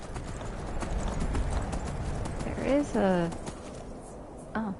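Horse hooves clip-clop steadily in Skyrim, a brisk even rhythm of near, distinct clops, joined midway by a horse's whinny and a voice briefly speaking.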